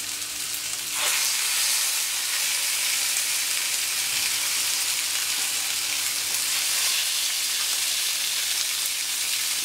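Marinated rabbit pieces, the thick hind legs first, hit a hot pan and a loud broadband sizzle swells up and holds steady and close.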